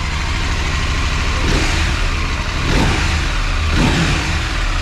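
The engine of a new Husqvarna Norden 901 motorcycle is revved repeatedly while it stands, loud and close, with several rising throttle blips over a steady running rumble.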